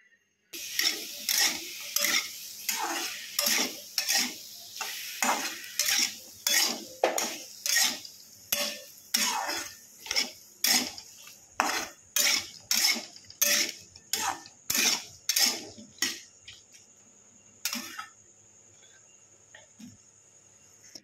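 A utensil stirs cut okra with potatoes in a pan, scraping and knocking in a steady rhythm of about twenty-five close, sharp strokes over twenty seconds before stopping.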